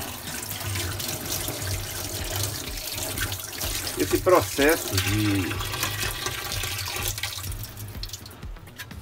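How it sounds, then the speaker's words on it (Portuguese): Tap water runs into a tank to rinse a freshly etched printed circuit board, a steady rushing flow with a short splashy burst partway through and someone talking over it. "que eu vou agora colocar água abundante aqui"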